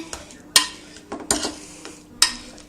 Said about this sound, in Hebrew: עכשיו אנחנו נימח, קודם כל נשים חמאה ונימח את הפירה, את תפוחי אדמה